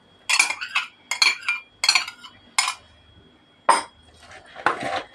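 Salad tossed with metal utensils in a bowl, a series of bright clinks and scrapes arriving in short bursts separated by brief pauses, close and fairly loud with no talking.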